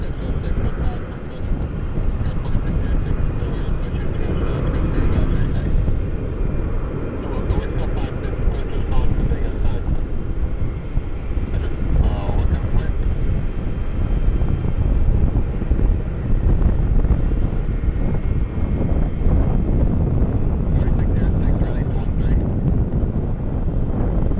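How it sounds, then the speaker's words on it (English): A Delta Airbus A321 airliner heading out toward the runway for Atlanta, its engines giving a steady loud roar with wind buffeting the microphone throughout. "There it is, A321 heading to Atlanta."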